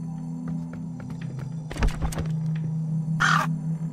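Crow cawing beside a bird's nest in the adventure game Anna's Quest, a couple of sharp harsh caws with a thunk and a later squawk over a steady low hum, no voices.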